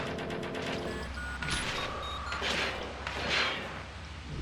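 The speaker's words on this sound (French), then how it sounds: "C'est des coups de feu." A burst of gunfire in a video game, several sharp cracks and thuds clustered together, loud and close, with a short ringing tone over the shots.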